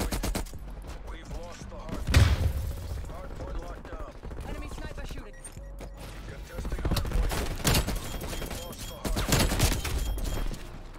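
Gunfire in Call of Duty Black Ops Cold War during multiplayer play, sharp bursts of shots in several clusters over steady game background, with a player talking over the action.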